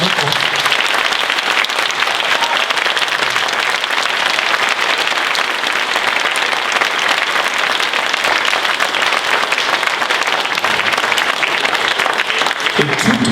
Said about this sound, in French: Je vous demande de remercier en applaudissant très fort.